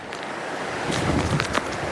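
Strong, steady wind roaring across the microphone during a storm with tornado risk, swelling into a louder gust near the middle with broadband rushing noise and no pauses.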